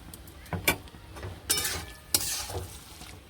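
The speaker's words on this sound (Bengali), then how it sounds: "নেড়ে দিলাম ঘিটা দিয়ে।" Watermelon rind vegetable being stirred with ghee in a pan over a low gas flame, with several separate scraping and clattering strokes against a soft background sizzle and no talking.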